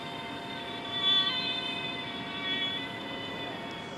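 An airliner lands at Amsterdam Schiphol airport, a steady distant engine roar with a gentle swell as it touches down, heard alone without voices.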